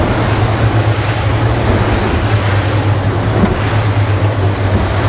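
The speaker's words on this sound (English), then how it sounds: "I'm going to turn around and I'm just going to get the boat up to pace" An Aquila Molokai boat runs across ocean waves, the engine droning low and steady under loud rushing water and wind buffeting the microphone, with no talk.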